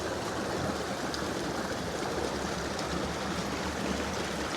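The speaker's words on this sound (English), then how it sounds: "can see the water coming down from the falls and into this channel" Continuous rushing flow of water coming down from falls through a creek channel in Kings Canyon, Carson City, steady and fairly close, with no talking over it.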